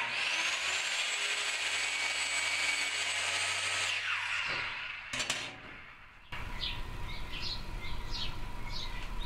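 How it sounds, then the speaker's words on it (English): A skill saw cuts through wood for a cabinet door: a loud, steady whine that winds down, a brief sharp burst, then a rougher, lower cutting noise with repeated rasping strokes, close and with no voices. "If you have a available skill saw, go ahead and use it."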